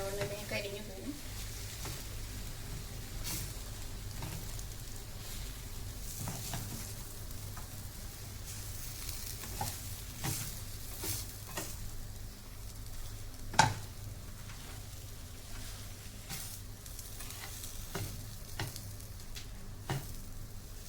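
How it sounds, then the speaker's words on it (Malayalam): Plantain and semolina are stirred and mashed in a hot pan over a low flame, with a soft continuous sizzle and occasional scraping knocks, one sharper clack partway through, and talk running faintly over it. "ഏത്തക്കായും ഈ റവയും കൂടെ ഒന്ന് മിക്സ് ആവാൻ വേണ്ടി ഇതിനകത്തൊന്ന് കുത്തിപ്പൊടിച്ചൊന്ന് യോജിപ്പിക്കണം."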